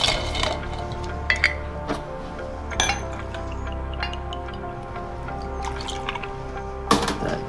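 Taiwanese Shaoxing wine, bitters and soda water are poured into a cup at a bar, giving a soft steady trickle of liquid broken by several sharp clinks of glass or ice, with no one speaking.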